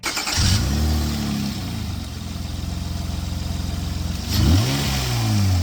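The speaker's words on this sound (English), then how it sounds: "we're gonna start it up now and see how she sounds" Gen 7 Honda Accord V6 fitted with a K&N cold air intake cranks, fires and revs, then settles into a steady idle before revving again, close and loud.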